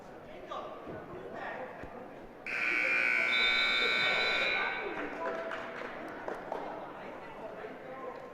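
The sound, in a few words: wrestling match clock buzzer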